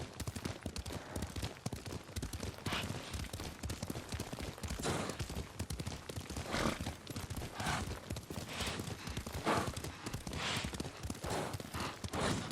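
Hooves beat rhythmically as a horse is ridden in the samurai video game Ghost of Tsushima, a steady clip-clop of moderate loudness over soft in-game ambience.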